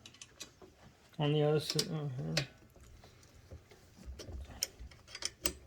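A rear axle and brake anchor bolt on a Burromax TT350R electric bike are loosened with a ratchet, giving faint, quick clicking and mechanical ticks under brief speech.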